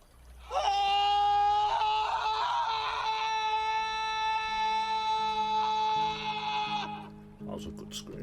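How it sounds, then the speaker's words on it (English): A long, loud sustained scream from a TV drama scene holds for several seconds before breaking off, followed by brief talk. "That was a good scream."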